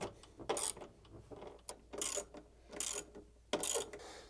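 Bolts being refitted on the motor of a Samsung ecobubble washing machine during a repair: four close, crisp bursts of ratcheting, clicking metal with short quiet gaps between them, and no voices.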